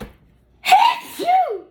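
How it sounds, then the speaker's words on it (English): A single person sneezes, a sharp breathy intake followed by a louder voiced burst and a second rising-falling tail, close and alone. "The sneeze is confirmation. And I got it 2 times."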